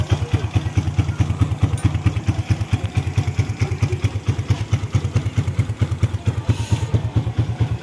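Motorcycle engine running steadily during break-in after a locked rear wheel repair, a rapid even pulsing idle with mechanical clatter, close and loud throughout with no talk.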